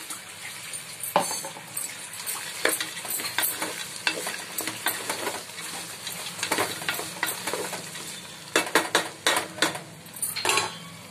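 Cashew nuts stirred and frying in a pan, with continuous sizzling and irregular scraping clinks of a metal spoon against the pan, close and steady, with no talking.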